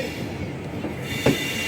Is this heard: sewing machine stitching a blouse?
no